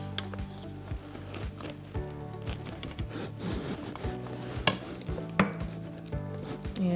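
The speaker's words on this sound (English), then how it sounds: "we're going to place the apples into our dish" Cooked, softened apples are placed into a baking dish with soft, wet thuds and light clinks, an uneven run of close kitchen handling sounds over faint background hum.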